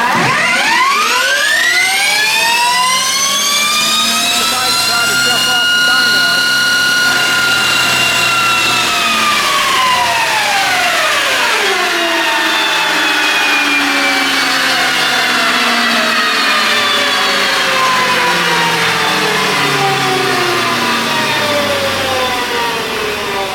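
Energica EGO RS electric motorcycle under full throttle, its motor whine sweeping steadily upward in pitch, then dropping away and winding down over about twenty seconds, loud and close with no speech.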